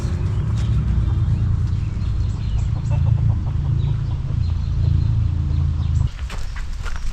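Hens clucking inside a box, a steady close chorus of low murmuring clucks that drops in level near the end.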